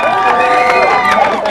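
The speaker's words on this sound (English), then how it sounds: "Trying to gain a little bit of momentum from the applause of the crowd." A crowd at a high jump world record attempt applauds and cheers in a dense, continuous roar that fills the whole moment.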